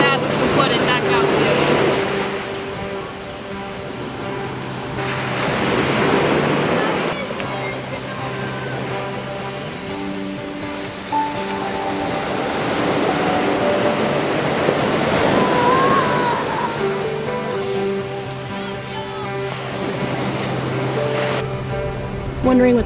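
Ocean waves surge and break against a seawall on the Kauai shore, heard as a continuous rushing roar with rising swells and wind buffeting the microphone, loud and close throughout.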